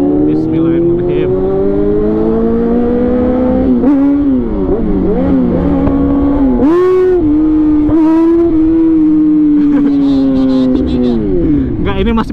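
A Yamaha R6 or Z1000 sport motorcycle warms up with its engine revving loud and close, a steady roar whose pitch swells and dips with repeated throttle blips while voices are heard at times.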